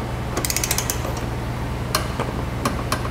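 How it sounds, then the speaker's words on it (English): Ratcheting torque wrench tightening trailer hitch bolts on a 2014 Ford Escape, giving short metallic clicks in a few quick bursts, close by over a low steady background hum. "We can grab a torque wrench and torque them to the specification in the instruction manual."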